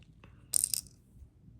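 Small beads being gathered and put away: a brief bright clatter of tiny pieces lasting about a quarter second, with a soft tap just before, in an otherwise quiet room.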